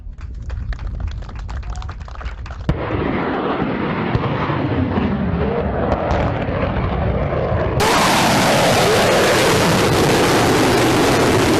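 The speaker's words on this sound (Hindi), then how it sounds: "देखें ब्रह्मोस सुपरसोनिक मिसाइल के फायरिंग की एक झलक" BrahMos supersonic missile firing: a dense, continuous roar that builds abruptly in two stages into a loud, broadband rushing blast, sustained without pause.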